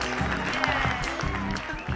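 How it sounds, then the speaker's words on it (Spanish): Applause at a fishing tournament gathering greets the sports secretary, with crowd clapping mixed under loud, tonal music that dominates the short moment. "Un fuerte aplauso para nuestro secretario de Deportes"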